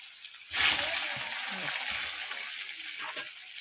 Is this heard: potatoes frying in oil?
yes